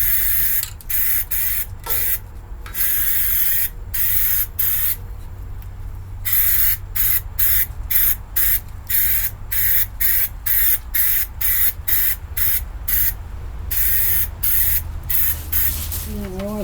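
Undercoating sprayed from an aerosol can onto the underside of a 1987 GMC, loud close hissing bursts in quick irregular rhythm, short pauses between each spray.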